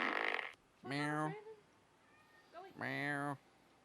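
A cat meows at a door in short bursts: a noisy sound at the start, then two clear drawn-out meows separated by a quieter gap, moderately close with faint room noise.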